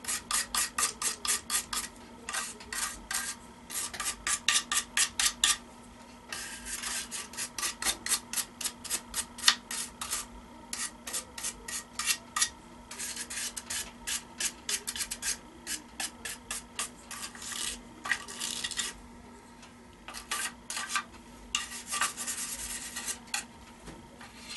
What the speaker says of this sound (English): Now I'm going to go over with this brush and get all